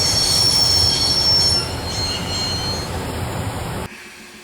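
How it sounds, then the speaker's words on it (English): A train in the video game Broken Sword: Shadow of the Templars Reforged brakes hard, with a loud, sustained metallic wheel squeal and rumble that fades slightly, then cuts off abruptly near the end. "I'd always wanted to stop a train, and now was my chance."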